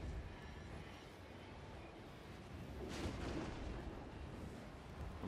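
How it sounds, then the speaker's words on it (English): Bolt throwers firing in a Warhammer 2 battle, a dense rumbling wash of distant siege fire and battle noise, with a louder swell of thumping impacts partway through. "Bolt throwers, keep firing."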